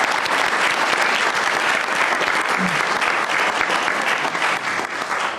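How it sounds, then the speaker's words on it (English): A crowd at a school board meeting applauding steadily, dense clapping that stays loud throughout and eases slightly near the end. "So let's give a round of applause to Ayang."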